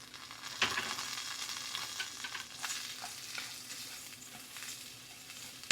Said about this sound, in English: Now let's toast our rice.